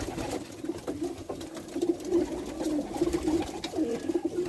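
Schimmel pigeons from Germany coo steadily in a loft, a continuous low throaty warble with repeated rolling coos over background hum.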